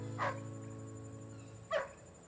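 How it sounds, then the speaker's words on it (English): A dog in a drama scene gives two short barks about one and a half seconds apart, fairly faint against a low background hum. "Mary Jo, call off the dog"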